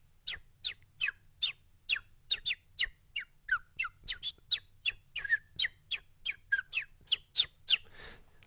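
A voice imitates sparrow calls, producing a rapid series of about twenty short, sharp chirps in steady rhythm, close and clear against a quiet low hum.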